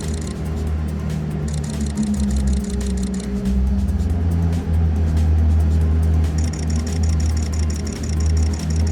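A Koenigsegg Jesko hypercar's engine hums steadily as the car moves nearby, a low continuous drone with slight swells in pitch.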